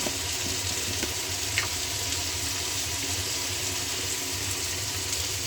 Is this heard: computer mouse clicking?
no